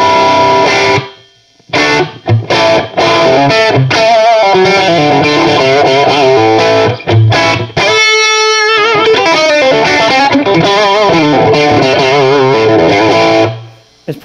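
Electric guitar played loud through a Vox MV50 AC NuTube micro amp turned fully up at 25 watts into 8 ohms, heavily distorted chords and riffs in a room, with a few brief pauses and a sustained ringing bend near the middle.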